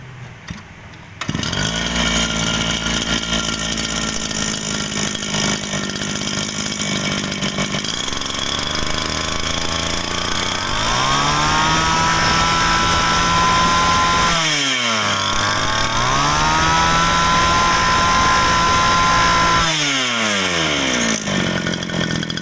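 A Hitachi 33cc grass trimmer engine runs loud and close, idling steadily, then revving up high twice with a brief drop between revs before settling back.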